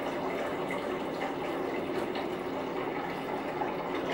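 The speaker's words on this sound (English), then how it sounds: "And what I'm going to do is I'm going to start by adding some water." Spring water pours steadily into a pot for tea, a continuous close splashing rush with no talk.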